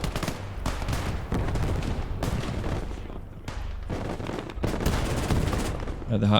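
A 2 cm ItK anti-aircraft gun in the WWII strategy game Gates of Hell fires in rapid, dense bursts, loud and sustained with brief gaps, a steady hammering of autocannon rounds over battlefield noise.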